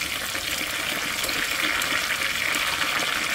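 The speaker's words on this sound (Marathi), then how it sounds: "तर आपण आता कोथिंबीर तळून घेऊ।" Fresh coriander leaves frying in hot oil for a festive chivda snack, giving a steady, dense, close sizzling hiss that runs unbroken with no talk.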